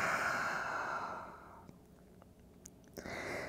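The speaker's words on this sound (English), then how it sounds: "Breathe in. And exhale out." A long, deep exhale during yoga breathing, a steady breathy rush close to the mic that fades out, followed by a few soft mouth clicks and quiet rustles.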